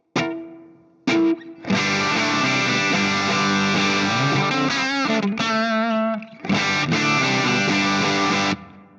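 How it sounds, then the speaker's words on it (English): A distorted electric guitar through a Fractal unit plays sustained chords and a sliding lead, drenched in a shimmering London plate reverb, with brief pauses between phrases. "Let's go for London plate reverb."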